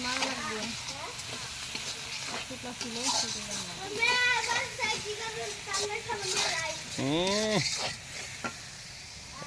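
Onions frying in a pan for fish bhuna, a steady sizzle and stirring scrape running under conversation throughout.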